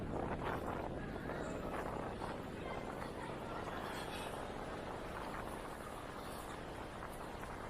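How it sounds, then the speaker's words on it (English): Strong wind blowing on a night in Blackpool, a steady, loud broadband roar buffeting close to the microphone without pause, gusting slightly throughout. "You can hear that wind."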